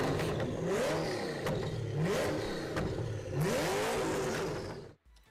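Mercedes-Benz SLR McLaren engine revving loudly and close, several rising and falling throttle blips over a sustained roar that cuts off sharply near the end.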